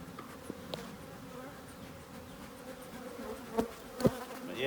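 Honeybees buzz around an open hive box in spring, a steady close hum with occasional louder passes and brief knocks from handling, and no voices.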